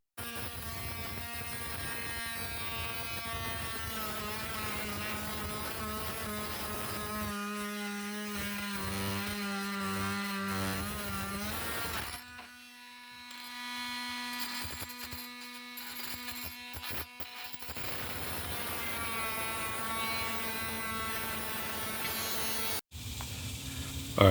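A Milwaukee M18 cordless oscillating multi tool cuts continuously with a loud, high buzzing whine, briefly dropping out and changing pitch as it bogs and restarts in a long, steady run.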